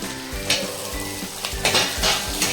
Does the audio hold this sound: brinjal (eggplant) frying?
yes